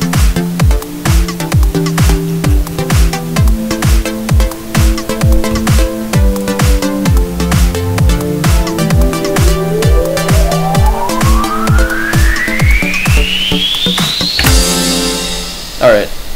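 Electronic intro built on a synth lead with percussion added, steady loud beat with a rising sweep building up near the end before a sudden break.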